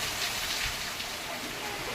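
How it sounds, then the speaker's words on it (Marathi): Heavy monsoon rain pours down steadily outside a house, a dense, even hiss with no breaks. "बघा जोराचा पाऊस आला"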